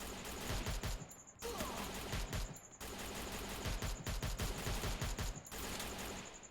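Gunfire in the Free Fire Max mobile game, bursts of rapid automatic shots coming in several rounds with short gaps between them, moderately loud and heard alone.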